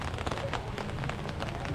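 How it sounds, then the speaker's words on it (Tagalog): Heavy rain pours steadily in a dense, hissing wash with scattered drop patter, continuous and fairly loud, with no voices. "Ang lakas ng patak ng ulan."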